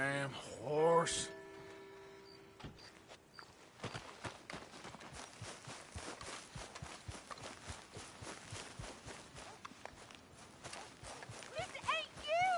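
Horse hooves clip-clopping in a PS4 video game, a steady galloping rhythm of quick thuds that runs for most of the stretch after a brief musical swell, with faint game sounds layered over it.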